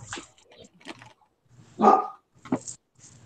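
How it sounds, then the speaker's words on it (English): Puppies yip and bark nearby in short, high, scattered bursts, one louder whimpering bark in the middle, with brief quiet gaps between them. "there's the puppies"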